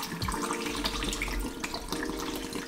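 Film developer chemical from a Bellini Foto C41 colour kit poured into a developing tank at home, a steady close liquid gurgle and splash running throughout, fairly quiet.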